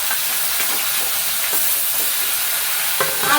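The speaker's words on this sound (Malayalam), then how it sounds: "ഉള്ളി ഒന്ന് വാടിക്കോട്ടെ ഉള്ളിയും തക്കാളിയൊക്കെ ഒന്ന് വാടിക്കോട്ടെ" Onions and tomatoes sauté in a pan with a loud, steady frying hiss up close, broken by a few faint stirring clicks, with no one speaking.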